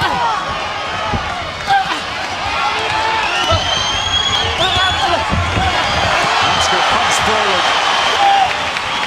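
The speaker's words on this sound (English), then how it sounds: "Crowd rising" A boxing arena crowd in Tucson rises and cheers during a bout between two undefeated fighters, a dense, loud wall of voices and whoops with sharp thuds, while an announcer talks over it.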